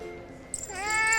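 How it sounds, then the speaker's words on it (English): An unfamiliar cat in the video game Love and Deepspace gives a single close, rising meow that swells near the end of the brief moment. "I follow the sound to find Xavier behind a cat tree, confronting an unfamiliar cat."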